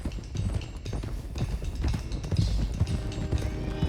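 Horses gallop in Red Dead Redemption 2, a steady run of clip-clop hoofbeats with an occasional whinny, loud and close throughout with no talk over it.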